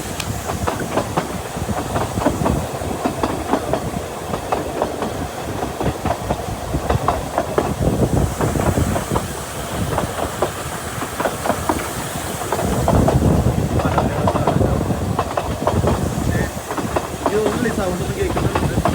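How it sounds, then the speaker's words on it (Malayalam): Steam train running on rails, a continuous rumbling ride with rhythmic clickety-clack from the wagons and a steady hiss, loud and close from inside the carriage throughout. "സൗണ്ട് ഒന്നും കേൾക്കുന്നുണ്ട്, ട്രെയിനിൻ്റെ സൗണ്ട് മാത്രം."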